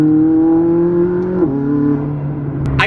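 A McLaren sports car engine roars loudly from inside the cabin, its pitch holding high under hard acceleration before dropping with a gear shift and climbing again.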